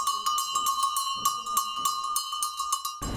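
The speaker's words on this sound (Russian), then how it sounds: "Звук школьного колокольчика – приятный звонок" A small, worn school hand bell rings repeatedly in quick, irregular shakes, bright metallic tones sustaining throughout, fairly close, ending abruptly.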